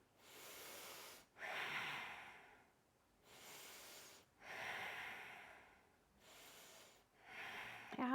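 Slow, deep breathing during a yoga tree pose, three long audible inhale-exhale cycles, each breath drawn in and released with a soft airy rush, close and quiet with no talk.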